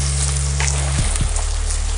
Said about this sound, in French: je fais chauffer mon huile comme il faut pour bien faire rôtir mes oignons